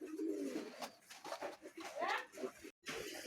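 Domestic pigeons kept as fancy breeds by a keeper coo in soft repeated calls close by, with other birds and a voice partly mixed in around them.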